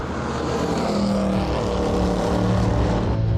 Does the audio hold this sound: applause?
no